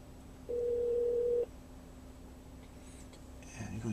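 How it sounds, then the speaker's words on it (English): A Ford Sync in-car phone system plays a steady electronic dialing tone for about a second over a faint constant hum, then goes quiet before a soft chime and ringback-like tone near the end. "Dialing."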